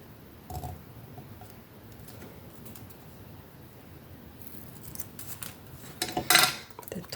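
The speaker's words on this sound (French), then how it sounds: "je vais couper un petit bout" Scissors snip a small piece of paper during a blue monochrome paper craft, a few faint quiet cuts followed by a brighter cluster of crisp snips near the end, with no talking.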